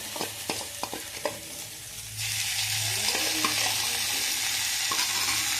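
Ginger paste hits hot oil in a pan and bursts into a steady loud sizzle after a few light taps and stirring sounds, the frying hiss continuing close and unbroken.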